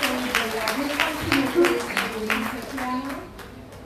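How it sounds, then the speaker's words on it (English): Church congregation clapping for students at a Sunday worship service, a moderate, uneven patter of claps beneath voices and cheering, thinning out toward the end. "Would you please give her a round of applause?"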